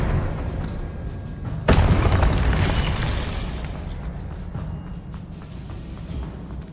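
A spell effect in Hogwarts Legacy lands with a sharp, explosive blast partway through. A sizzling, crackling tail follows and fades over a few seconds above a low rumbling game backdrop.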